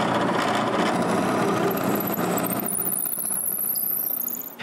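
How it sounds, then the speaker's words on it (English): Drilling into the center of a wooden top block for a tripod: loud continuous machine whir with rising high-pitched squealing as the bit bites, fading slightly at the finish. "I also find the center of the top block and drill it."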